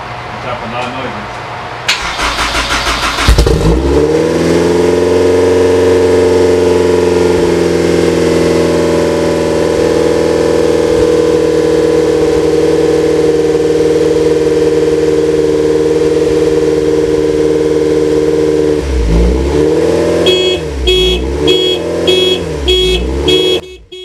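A car engine cranks and fires on its first start, then settles into a loud, steady run before a series of sharp throttle blips near the end; a voice can be heard over the engine.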